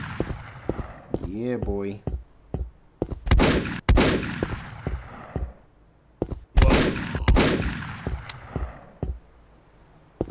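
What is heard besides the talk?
gunfire while shooting zombies in a Call of Duty zombies fan game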